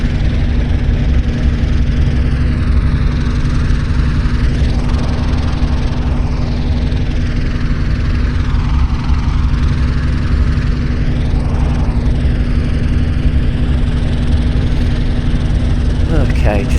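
Avro Shackleton aircraft engines in a flight simulator video game drone continuously and loudly, a constant low throb with a steady hum that slowly swells and fades in tone.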